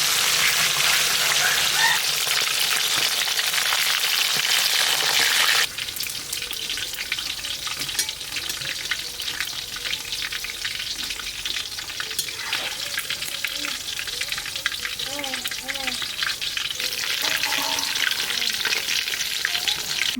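Chital and bhetki fish fry in oil in a large wok, giving a loud, continuous sizzle and crackle that eases slightly after a few seconds, then carries on steadily with small pops.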